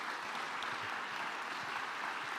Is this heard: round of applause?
yes